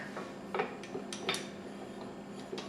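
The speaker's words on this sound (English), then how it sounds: "We're going to attach our dough hook." Metal clanks and clicks of a dough hook being fitted onto a stand mixer in a home kitchen, a few sharp taps spread over a couple of seconds, moderately close and fairly quiet with no talking.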